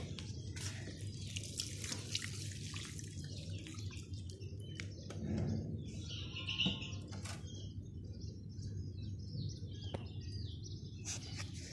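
Water trickles and drips unevenly onto bottle gourd plants in a home garden, with a brief louder splash midway and birds chirping faintly in the distance.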